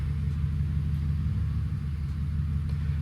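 Pickup truck with the back half of its exhaust missing sits idling, a steady low rumble running evenly and continuously close by with no one talking.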